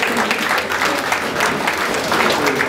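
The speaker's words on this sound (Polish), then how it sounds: "Brawa dla zwycięzcy." An audience at a guitar workshop raffle claps steadily for the winner, a dense, even burst of applause heard close and loud throughout with faint voices underneath.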